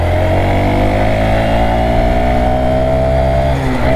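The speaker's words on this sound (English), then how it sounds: "Now this thing does have a rev limiter." Honda Monkey motorcycle with a five-speed gearbox, engine held at a loud sustained high rev against its rev limiter during a ride, a steady buzzing drone right up close.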